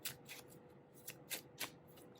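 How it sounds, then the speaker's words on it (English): Tarot cards are shuffled by hand, a run of soft riffling bursts and flicks at irregular intervals, close and fairly quiet with no talking. "I'm gonna go ahead and shuffle the cards to see what we get here."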